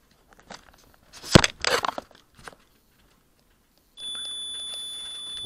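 A multimeter continuity beep on the edge of a carbon fiber ZMR 250 frame: a single steady high tone sounding near the end after some handling and clicking noises.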